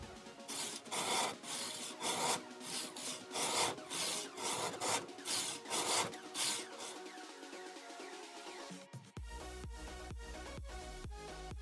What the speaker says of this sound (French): je vais passer au découpage du coup des gros blocs avec une scie à bois